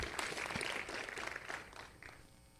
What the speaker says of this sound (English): Can everyone give a round of applause to all these incredible panelists?